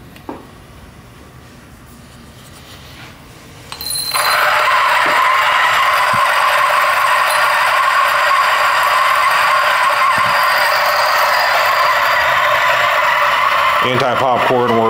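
A DF64V coffee grinder fitted with SSP multi-purpose burrs grinds beans at 600 RPM, starting after a quiet few seconds into a loud, steady whirring grind that holds close and constant until it cuts off near the end.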